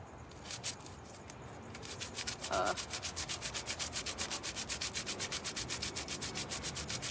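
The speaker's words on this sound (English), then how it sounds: "It's like ripping the sandpaper." Sandpaper scrapes back and forth over a painted surface in fast, even strokes, a rhythmic close rasp that settles into a steady pattern after a brief pause.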